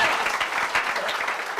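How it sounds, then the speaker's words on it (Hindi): Loud, dense applause from an audience at a Hindi-language motivational talk, a steady wash of many hands clapping together that carries on without a break for under two seconds. "चलो बजाओ सर के लिए जोरदार ताली।"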